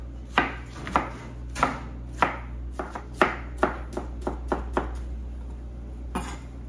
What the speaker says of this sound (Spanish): Ahora sí vamos a cortar los cuadritos.